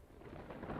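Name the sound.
thunder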